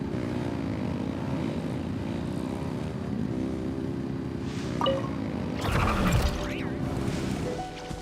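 Engines in a Diablo IV game scene roar with a steady droning rumble throughout, swelling near the end with a burst of crashing noise and rising whine.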